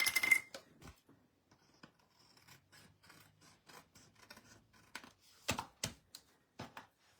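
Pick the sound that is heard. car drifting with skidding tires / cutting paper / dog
cutting paper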